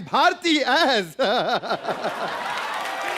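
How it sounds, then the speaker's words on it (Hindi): Someone speaks loudly on a comedy talk show stage, then the studio audience breaks into a short wash of clapping and cheering that continues under him. "जोरदार तालियां हो जाए"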